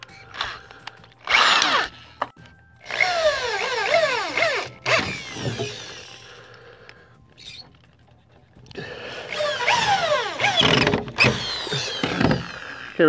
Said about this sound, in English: I just drill the base. I drill together by corners.